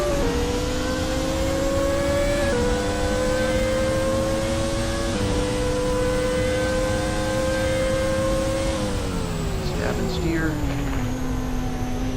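A race car in the Speed Dreams racing game whines loudly and continuously, its engine pitch holding through gears and stepping down at downshifts before launching again, with a person talking over the steady engine drone.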